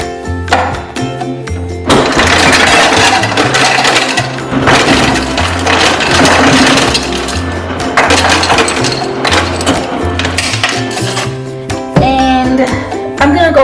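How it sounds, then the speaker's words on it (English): Ice being added to a cup for an iced coffee, loud close rattling and clattering of cubes tumbling in, with a continuous mechanical hum underneath and bursts of clinking throughout. "then we're gonna fill it up with ice."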